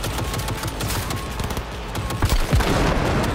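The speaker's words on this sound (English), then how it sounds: "Ooh, a turret. Let's just take control real quick." Hacked turret in the video game Cyberpunk 2077 blasting away in a dense, continuous stream of rapid gunfire, loud and close, with heavier booming hits layered in toward the end.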